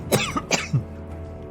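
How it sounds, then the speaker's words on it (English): A man in a fantasy audio drama is seized by a coughing spasm, several harsh close coughs and throat-clearing bursts in quick succession, then a quieter pause before one last short cough. "As he rises, a sudden coughing spasm overtakes him."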